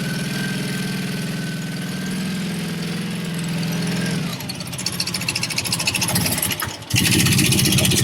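Steady idle from a 1988 Honda VF750C Super Magna with a custom Marving exhaust as it warms up, a close, even rumble that shifts midway into rougher, busier clatter before a louder burst near the end.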